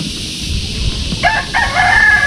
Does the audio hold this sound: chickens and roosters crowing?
yes